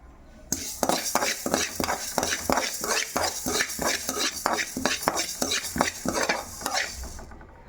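Mustard seeds and fenugreek dry roasting in a pan, with a spoon scraping and stirring in a steady, rhythmic pattern over a light crackle. The sound is close and continuous, with no talking.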